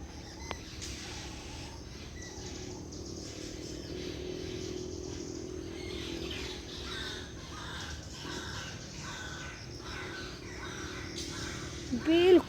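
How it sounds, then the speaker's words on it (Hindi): Birds call from forest near the Ganga at Haridwar, crows cawing repeatedly at moderate distance over a faint steady background with distant traffic, and a voice speaking lightly. "जंगलों से अलग अलग चिड़ियों की आवाज़ आ रही है"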